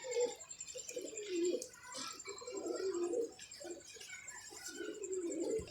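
Several pigeons give low, rolling coos in repeated phrases, near and fairly steady, over a faint high whine.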